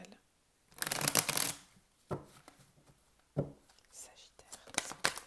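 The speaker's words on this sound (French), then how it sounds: "pendant que je tire les cartes" Tarot cards riffled and shuffled close up, a dense papery burst followed by quieter slaps and flicks as individual cards are drawn and laid down, with faint whispery voice between.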